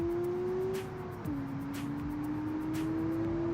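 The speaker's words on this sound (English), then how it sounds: "So the engine in it is an inline 5 turbo." A turbocharged inline five-cylinder car engine with all-wheel drive and a manual gearbox in a racing game, revving high and steady, with one quick dip and a gear change partway through before it climbs again.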